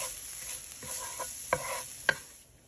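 Garlic fries in a pan with a soft, steady sizzle while a utensil stirs it, giving a few distinct scraping clicks near the end before the hiss fades slightly, no talking.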